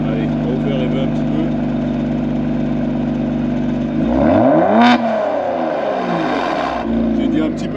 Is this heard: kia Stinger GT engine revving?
yes